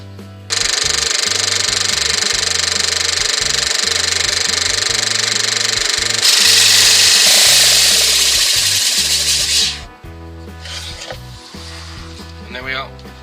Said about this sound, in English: I have my homemade sanding wheel here with a table and a fence set at 90 degrees to the wheel